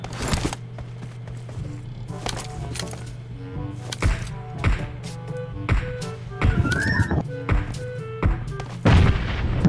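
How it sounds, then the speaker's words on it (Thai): Gunfire and grenade blasts from a video game fight in and around a building, with sharp repeated shots, heavier thuds and footsteps over a steady low hum, fairly loud and close. "ปาระเบิดเนี่ยเข้ามาเลยครับยัดเข้าไปเลย"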